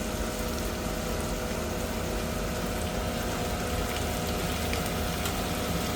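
Cumin and spices sizzle in hot oil for a bitter gourd (karela) curry, a continuous dense hiss and crackle that stays even and close throughout, with no talking.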